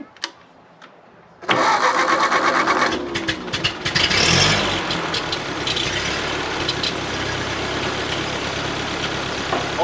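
A 1939 Ford 9N tractor engine cranks and catches abruptly after a quiet moment, then runs loud and close with a rough, steady idle.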